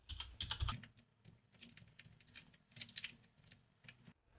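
Someone types on a computer keyboard with rapid, uneven clicking keystrokes in short runs, close and fairly quiet, with no talk.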